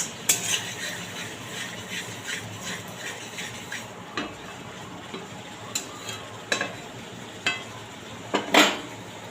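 A spoon scrapes and clicks irregularly against a pan as a spice masala is sautéed for a vegetarian pointed gourd (potol) and fennel dish, over a steady close sizzle, with a few louder knocks.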